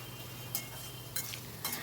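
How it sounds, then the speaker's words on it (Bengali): Potatoes with a pinch of turmeric fry over a high flame while being stirred constantly, giving a quiet, steady sizzle broken by three short scraping strokes of the spoon. "দিয়ে আমি আলুটাকে একটু ফ্রাই করে নিচ্ছি।"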